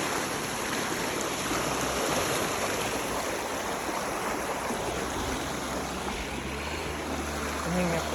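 Canal water flowing along a channel that passes through a tunnel, a steady broadband rushing wash that is continuous and moderately near, with a faint voice speaking briefly beneath it.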